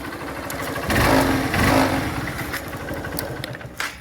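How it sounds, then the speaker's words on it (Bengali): A Honda CB Trigger motorcycle engine runs close by, holding a steady idle that swells twice with brief throttle blips before settling back to a low, even putter. "বাইকটা আপনাদেরকে একটু স্টার্ট দিয়ে সাউন্ড কোয়ালিটিটা আপনাদেরকে একটু শুনে দিই"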